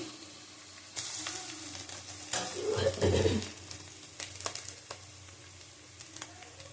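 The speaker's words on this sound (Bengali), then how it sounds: "ভালো করে ভেজে নিতে হবে" Whole spices such as cardamom frying in hot oil in a pan for a Bengali fish-bone chorchori: a steady crackling sizzle, briefly surging into a loud spattering burst midway, then settling back to quieter popping.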